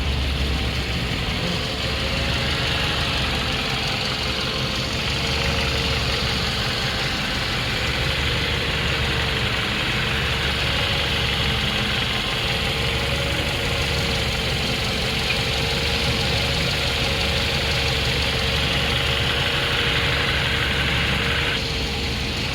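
A Honda Civic CX with a swapped-in K-series engine idles quietly and steadily with a smooth, even drone, and no talk over it.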